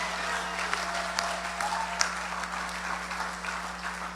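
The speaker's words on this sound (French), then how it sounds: "Nous applaudit le Seigneur pour grand bénéfice en gain." A church congregation claps during a French-language sermon, scattered fairly soft applause with a few sharper individual claps standing out, over a steady low hum.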